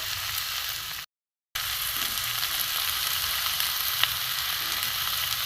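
Papaya pieces sautéed with salt in a pan for a papaya chicken dish give a steady, close, dense sizzle throughout, briefly cut by a moment of silence near the start, with no talking.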